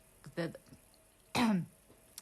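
A single harsh cough bursts out loud and close, preceded by a shorter throaty clearing sound, with quiet pauses around them.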